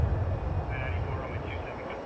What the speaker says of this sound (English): That plane left in time for this one to land.